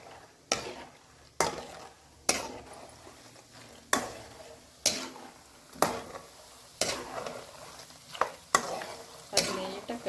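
Peanuts roast in a pan over a low flame, stirred in regular sweeping scrapes about once a second, with a soft dry rustle between strokes and no voices.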